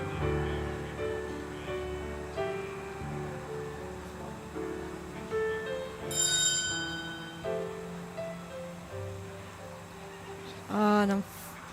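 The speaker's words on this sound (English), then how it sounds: "unfortunately the bell has gone" A judge's bell rings in a para dressage arena at a Grade I team test, a bright metallic burst of rings near the end, sounding over commentary, with an earlier brief high ringing partway through.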